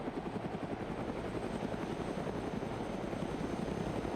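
A helicopter in the video game Arma 3 flies at a steady pace, its rotor thumping in a fast, regular throb over a broad engine roar, heard alone at a moderate, somewhat distant level.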